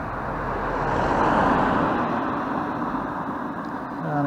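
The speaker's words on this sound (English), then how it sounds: "There's a vehicle coming along the road now." A vehicle drives past on a 20 mph residential road, a broad steady tyre and engine rumble that swells and fades gently, fairly close with no voices.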